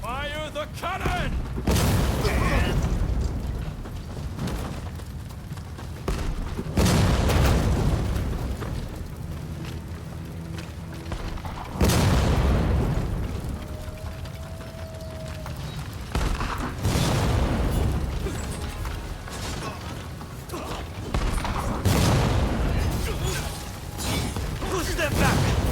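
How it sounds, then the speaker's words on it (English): Cannon fire in the video game Rise of the Ronin, with repeated heavy booms several seconds apart that roll out into long rumbling decay, mixed with shouting voices and battle noise. "Fire the cannon!"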